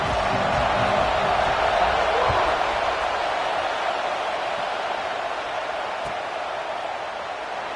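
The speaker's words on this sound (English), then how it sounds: "This crowd ready to make its presence known." Stadium crowd in EA Sports College Football, a Ducks game: a broad, steady roar of many voices, loud at first and easing slightly, with no distinct talk.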